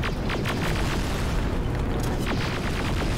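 Rocket launcher blasts in a Terminator video game land as loud, repeated booming explosions in quick succession over a continuous rumbling battle din.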